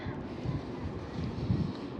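Light outdoor wind buffeting the microphone, producing a low, uneven rumbling gust noise that swells and fades over two seconds.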